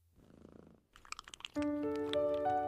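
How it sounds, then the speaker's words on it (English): A pet cat being fed purrs in a low, soft rumble, followed by a few crisp crunching bites and then sustained bright musical tones, with no talking. "I am feeding the cat."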